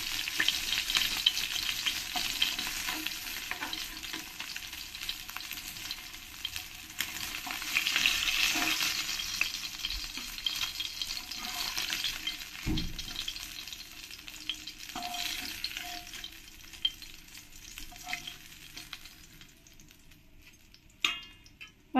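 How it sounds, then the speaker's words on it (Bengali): Foloi fish frying in oil in a pan give a steady, bright crackling sizzle that swells and eases over time, with occasional soft clinks and stirring sounds and no speech. "আর পরের মাছগুলো ঠিক একই রকম করে আমি ফ্রাই করে নেব।"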